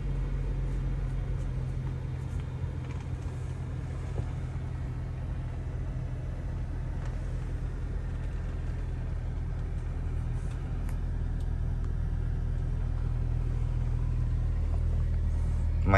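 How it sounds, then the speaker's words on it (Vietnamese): A 2009 Toyota Innova G engine idling, a smooth, low, steady rumble with a faint hum, heard from inside the car and growing slightly louder toward the end. "máy rất êm nha quý anh chị"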